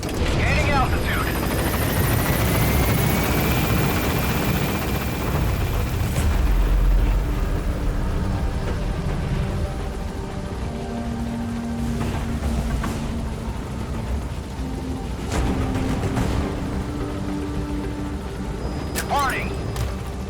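The Pequod helicopter lifts off in Metal Gear Solid V with a loud, close rotor roar and heavy engine rumble. The thrum eases slightly as it climbs. Radio-style voice chatter plays over the noise.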